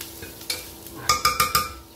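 Onions fry in bacon fat in a pan, with a soft sizzle under a few scraping stirring strokes near the end.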